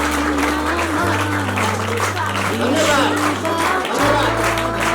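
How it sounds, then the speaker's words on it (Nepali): Hands clap in applause at a Christian village wedding in Dhading, a steady patter running through the whole stretch beneath a voice and low tonal music. "ताली पर्काउनु"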